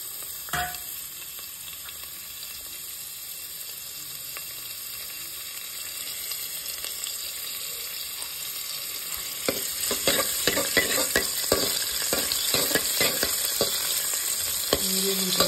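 Sliced onions hit hot oil in a pan, sizzling and frying for beetroot palya, a steady crackling hiss with a sharp burst at the start and louder popping and stirring scrapes later on.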